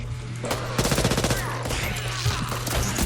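Rapid automatic gunfire crackles in the zombie shooter video game Back 4 Blood, a loud fast burst of shots over a constant low in-game hum and other combat noise.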